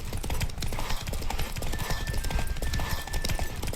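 A horse gallops in The Witcher 3, its rapid, rhythmic hoofbeats pounding loud and close throughout, with a thin whistling tone mid-clip and no talking.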